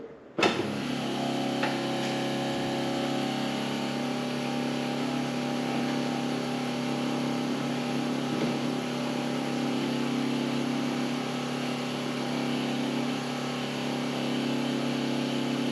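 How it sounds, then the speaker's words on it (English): Small-block Ford V8 in a 1961 Ford F100 gasser truck idles steadily under the hood, a continuous close, loud drone held at an even level for the whole stretch after a brief start. "we're all set and ready to do the engine test"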